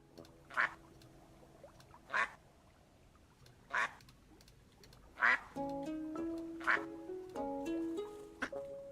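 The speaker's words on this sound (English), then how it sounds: "What duck did they record for that?" Duck quacking in the cosy building game Tiny Glade: five or six loud, evenly spaced quacks, then a bright melodic chime tune plays underneath the last few.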